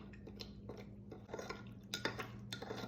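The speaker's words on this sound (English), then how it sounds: "I'm just going to take my spoon and mix that up." A spoon mixes a seasoning blend (ham-flavored and salad-and-vegetable seasonings) in a bowl, giving quiet, scattered clinks and scrapes against the dish over a low background hum.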